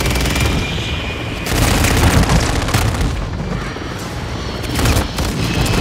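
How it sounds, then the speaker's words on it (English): A cruise missile strike explodes in the video game Call of Duty: Modern Warfare II, a loud, dense booming roar with rolling, rumbling blasts and crackling debris that swells in waves over several seconds. "Cruise missile inbound."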